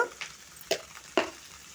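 Food frying in a pan gives a close sizzle, interrupted by three sharp scraping stirs spaced about half a second apart.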